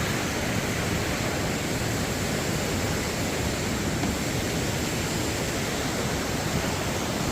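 A waterfall's continuous broadband roar of rushing water fills the scene, steady and loud without pause or voices, near Cat Cat village in Sapa, Vietnam.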